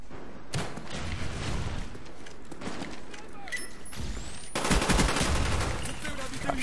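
Gunfire from a Call of Duty Black Ops multiplayer match, a steady stream of rapid shots and bursts with louder bursts near the end, under game noise and someone commentating.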